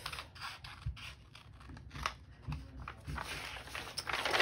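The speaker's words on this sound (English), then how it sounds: "And then you just take your scissors" Scissors snip through fabric while sewing, with a series of quiet, close scratchy cuts and rustles spaced irregularly over a few seconds.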